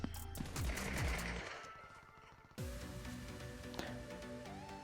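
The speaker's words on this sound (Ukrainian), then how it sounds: "Десь стріляють, стріляють ззаді." Gunfire in a shooter video game, a few sharp shots and bursts near the start followed by quieter in-game ambience, then a sudden louder burst of game sound partway through.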